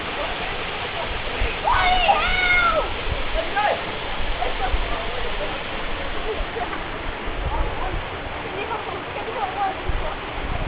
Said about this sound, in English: And this would be 60-foot falls.